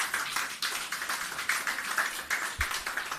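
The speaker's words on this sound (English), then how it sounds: "Keep the applause going." Applause at a media briefing on hurricane recovery, a steady patter of many hands clapping in an irregular pulsing rhythm, fairly close and sustained throughout with no speech over it.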